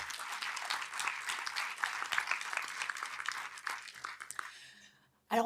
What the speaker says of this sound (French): je crois qu'on peut les applaudir déjà